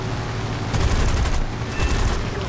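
Machine guns on a P-36C Hawk fighter in War Thunder arcade, fired during a low dogfight: one loud, sustained burst of rapid rattling fire that runs the whole time with no talk.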